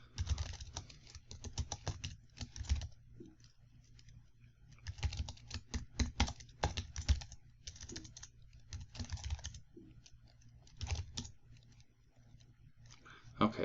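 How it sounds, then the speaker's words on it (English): Rapid keystrokes clatter on a computer keyboard in bursts separated by short pauses, close and steady, with a faint low hum underneath. "so we got to type in the value"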